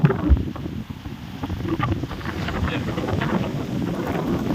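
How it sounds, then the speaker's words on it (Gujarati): Steady gusting wind roars against the microphone outdoors in a village, shaking neem trees, a broad rushing noise that rises and falls without pause. "અચાનક છે ને પવન ફૂલ ચાલુ થઈ ગયો"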